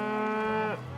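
A single cow on a ranch in Rexburg, Idaho gives a close, loud, drawn-out moo that drops in pitch and fades at the end, heard alone.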